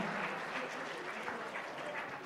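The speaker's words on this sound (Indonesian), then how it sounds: "Kalau gitu kita sedahkan dulu tepuk tangan sekali lagi untuk Pak Saud Situmorang" A talk-show and workshop audience at a film festival in Bali applauds a guest, a faint, even wash of clapping heard from a distance.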